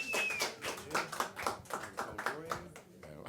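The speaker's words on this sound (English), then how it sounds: "Round of applause." Clapping in a Harlem speakeasy jazz club as the pianist is introduced, fairly quiet, with distinct individual claps pulsing unevenly and voices chattering over them.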